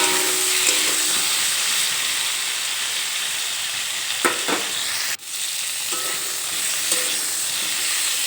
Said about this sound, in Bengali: মাছ ভাজা তেলের মধ্যে ফুলকপিটা ভেজেছি